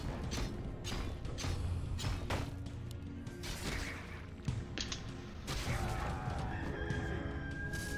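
Chicken clucking and crowing sound effects in a multiplayer video game, repeated over a busy, steady bed of game noise with scattered crashes and mechanical clanks.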